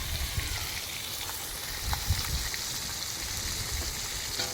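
Small spice-coated fish pieces sizzle steadily in a hot pan, a continuous, even crackle of frying with no pauses and no speech over it.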